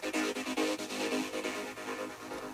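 A synth bass add-on pulses in short, rhythmic repeated notes, bright and buzzy with a steady driving pattern, playing alone without any voice.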